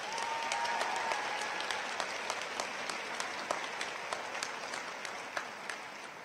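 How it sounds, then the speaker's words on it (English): Steady applause from a commencement crowd honoring graduates' families, a dense wash of many hands clapping at even volume throughout, with a few sharper individual claps standing out near the end. "Can we give your families a round of applause?"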